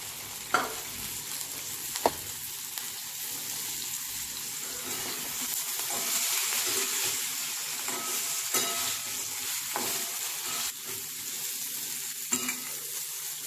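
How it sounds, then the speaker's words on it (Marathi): Chopped okra (bhindi, lady finger) frying in a pan with asafoetida and turmeric, giving a steady close sizzle with occasional scraping stirs and clinks, no voices. "आता याच्यात आपण चिरलेली लगेच भेंडी टाकून घेणार आहे."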